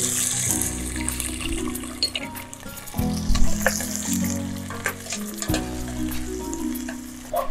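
Chopped ginger and garlic fry in hot oil for a Madras-style vadacurry, a loud, continuous close-up sizzle with crackling bursts and occasional stirring, no talking.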